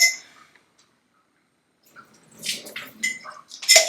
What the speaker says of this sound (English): Just pour a little bit of the water out